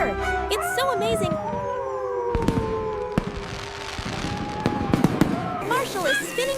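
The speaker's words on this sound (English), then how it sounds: "Boom! The sky lights up for the new year." Animated New Year fireworks burst overhead in a cartoon scene, with several sharp cracks and bangs spread across a busy mix of whistling effects and music, while characters talk over them.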